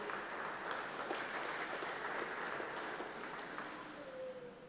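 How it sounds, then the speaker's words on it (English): Faint, steady applause from a small crowd at a hardball handball doubles finals event, with a distant, roomy quality and a soft fade near the end. "Round of applause"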